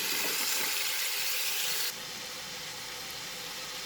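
Tomatoes and mixed vegetables sauteing in hot oil for a vegetable dal, a steady broadband sizzle and hiss that drops slightly in level halfway through and then holds evenly, with no voices.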